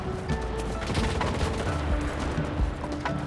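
Machine gun fire in the World War II shooter Enlisted during urban combat, rapid bursts and scattered shots with distant booms rattling continuously at moderate volume through the battle.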